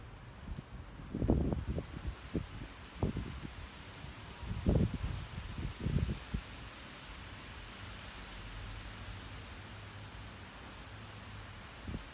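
Wind gusts outdoors as the weather turns, a broad steady rushing hiss with low buffeting thumps against the microphone in bursts early on, then settling into a constant roar.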